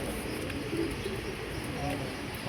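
Racing pigeons perched on a rooftop coo softly in low, rounded murmurs beneath a continuous outdoor hiss, while someone talks nearby.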